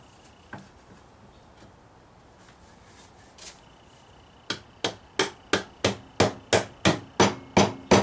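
Dovetail drawer joints are knocked together with a hammer: a few sparse taps, then about a dozen sharp, evenly spaced blows at close range growing slightly louder.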